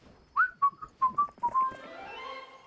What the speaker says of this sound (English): I don't know if that's quite what you were trying to whistle